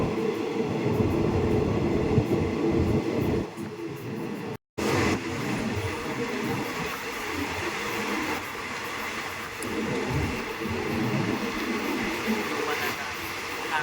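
Continuous rumble and rattle of a passenger train rolling along the rails in Thailand near Pak Chong, heard from inside, with faint voices in the background.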